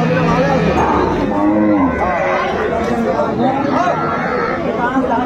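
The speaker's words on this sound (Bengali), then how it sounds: "শাহিওয়াল জাতের গাভী বাছুর আমরা দেখছিলাম" Sahiwal breed cows and calves moo repeatedly at a busy cattle market in Dinajpur, the lowing calls rising and falling amid steady crowd chatter and nearby voices.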